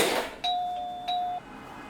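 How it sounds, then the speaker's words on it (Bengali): A doorbell rings indoors with two clear electronic dings, the second following about half a second after the first, each ringing out briefly before fading. "আবার কেরা কলিং বেল বাজায়"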